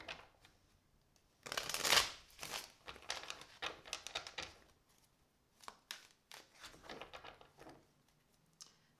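Tarot cards are shuffled by hand in a quiet room, a burst of riffling followed by several shorter papery flicks and slides, soft and close, with no talking.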